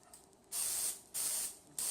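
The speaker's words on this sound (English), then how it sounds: "we're going to spray the cupcake pan" Three short bursts of cooking spray hiss onto a cupcake pan in quick succession, close and fairly quiet, with brief pauses between them.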